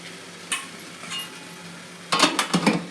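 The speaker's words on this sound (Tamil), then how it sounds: "மூடி போட்டு மூடிக்கணும்." A lid goes onto a pot of steamed ragi kozhukattai dumplings in a home kitchen, a short cluster of loud metallic clanks and clinks near the end after quieter bumps.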